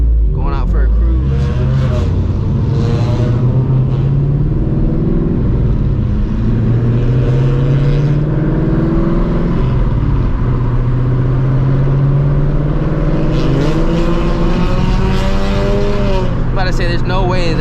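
A Dodge Charger engine revving hard on Houston streets, loud rising and falling roars with gear changes heard from close by, while people talk over it throughout.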